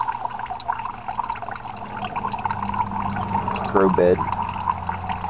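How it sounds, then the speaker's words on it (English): Water from a bell siphon trickles and pours into an aquaponics tub made from recycled goods, a soft continuous gurgle with a brief louder splash, under someone talking. "water gets down to the bottom of the bell siphon, it stops the vacuum. The whole thing starts over again. Begins filling the tub."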